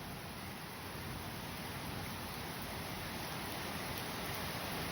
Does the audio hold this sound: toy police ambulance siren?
no